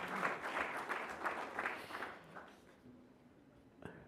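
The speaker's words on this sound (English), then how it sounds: "So please join me in applauding his latest achievement and wish him many more." Audience at a memorial lecture clapping for Dr. Bose, fairly faint applause from a hall crowd that fades out after about two seconds into quiet room tone and a single soft knock.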